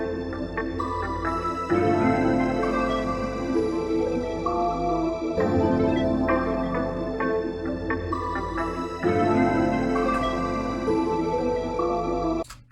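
A looped guitar melody sample for an R&B beat plays loud and steady, with chords and layered tones repeating in a relaxed cycle for about twelve seconds before cutting off abruptly.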